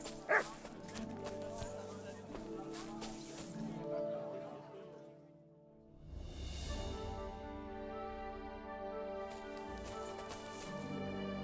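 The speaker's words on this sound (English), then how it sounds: "Here, Mutt." A dog barking in the Kingdom Come: Deliverance II video game, a few short barks and yips among tonal game sounds, with a brief quieter stretch in the middle.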